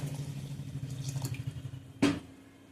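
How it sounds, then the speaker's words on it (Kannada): Water poured into a pot of sprouted horse gram sambar, a soft close trickle with a splashy burst near the end, no talking. "ಈಗ ನಾನು ನೀರು ಹಾಕ್ಕೊತಾ ಇದ್ದೀನಿ."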